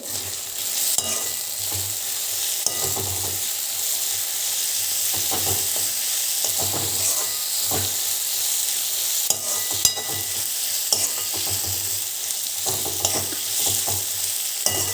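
Chopped spinach and green garlic sizzle steadily in a pan, with a scraping stir now and then. The frying hiss stays close and even throughout, and nobody speaks.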